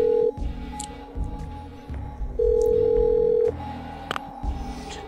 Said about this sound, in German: Ein Freizeichen.